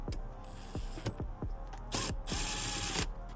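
Cordless power tool spinning off a hose clamp on an AFE cold air intake for a Kia Stinger G70 build, a series of short sharp ratcheting clicks and whirring bursts close by, with two longer buzzing runs near the end.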